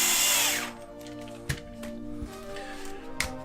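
A power drill whines loudly for about half a second, then stops, followed by a few sharp clicks and knocks against a low hum.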